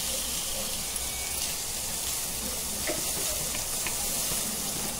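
Turmeric and Kashmiri chili powder roast in a pan over low gas, a soft steady sizzling hiss heard close, with faint background noise and no clear talking.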